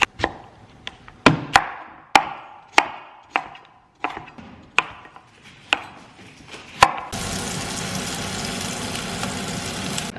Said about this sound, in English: now I'm just gonna peel 2 sweet potatoes and cut them up